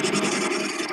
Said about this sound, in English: I can use my gouge, and I can get in there